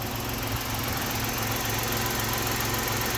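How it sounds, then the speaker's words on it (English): A 1990 Dodge Grand Caravan LE minivan engine idles with a steady, low rumble throughout, with a constant mechanical hum and no voices. "Now I can actually listen to the motor."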